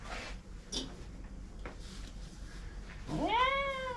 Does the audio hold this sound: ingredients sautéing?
no